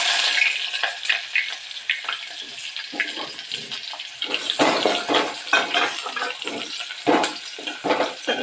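Onion frying in a pan on a gas stove, a steady sizzle with bursts of stirring and crackle rising and falling close by, no voices.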